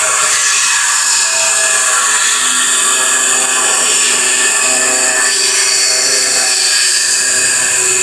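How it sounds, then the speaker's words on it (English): Loud, continuous high-pitched grinding and drilling into concrete at a neighboring construction site, a harsh whine that never lets up across the whole stretch. "the grinding and the concrete drilling"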